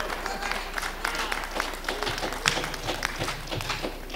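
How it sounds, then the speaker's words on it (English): An audience applauds at a talk about fighting Ebola stigma and racism, a moderate, steady patter of clapping with a few sharper claps standing out. "y'all can clap."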